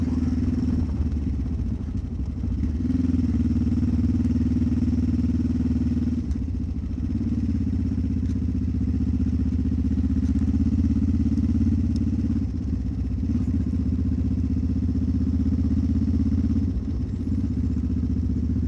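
A motorcycle ridden on a winter road trip north of Nîmes toward Spain gives a loud, steady engine drone that holds constant for the whole stretch, with wind rush and small dips in pitch as the throttle shifts.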